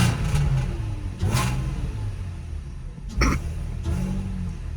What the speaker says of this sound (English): a little bit more of the whine, and then the rasp from exhaust